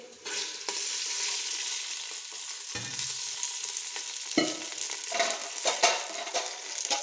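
Onions frying in a cup of oil for Hyderabadi mutton haleem make a steady, close sizzle, broken by scraping stirs and soft clinks of a utensil against the pan.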